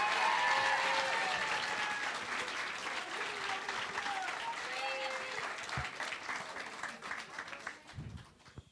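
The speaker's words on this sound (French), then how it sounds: "Du bruit pour Jaëlis, s'il vous plaît" Audience at a school slam poetry show applauding a performer as he takes the stage, sustained clapping with whistles and cheers that gradually thins out.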